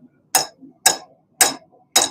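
Four sharp, ringing hammer blows on hot steel while forging throwing knives with a hammer whose head is loosening, evenly spaced about half a second apart, close and loud with a bright metallic clang.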